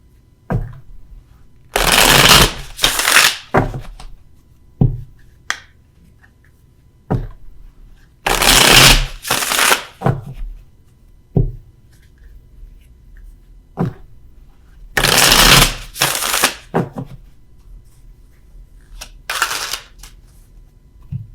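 Tarot cards are shuffled in several bursts of crisp riffling and flapping, close to the mic, separated by soft taps and handling clicks in otherwise quiet pauses.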